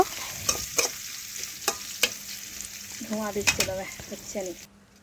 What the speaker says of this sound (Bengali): এখন পেঁয়াজ ভালো করে একটু ভেজে নেব